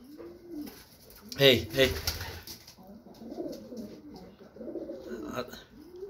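Racing pigeons in a loft coo in low, rolling calls that come and go through the recording, close by. A voice calls out briefly over them partway through.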